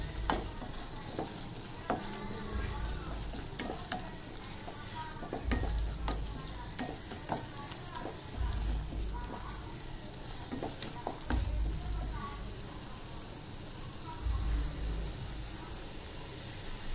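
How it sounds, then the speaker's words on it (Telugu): Corn kernels frying in a pan sizzle steadily, with a spatula scraping and stirring in a loose rhythm and low thumps recurring every few seconds. "ఇలా ఒక 10 నిమిషాలు వేయించుకోండి"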